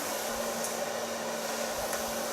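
A hair dryer blowing hair dry while a brush pulls it back after a haircut and colour, a loud, steady, close whooshing drone that holds even throughout.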